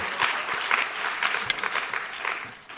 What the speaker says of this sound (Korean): 우리 박수로 한번 격려해 주셨으면 좋겠습니다